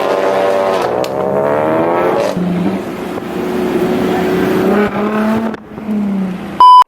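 A Ford Focus RS launches hard at an Ocean City, Maryland car cruise, its engine revving loud and sustained with rising, stepping pitch as it pulls away close by, ending in a sharp brief burst.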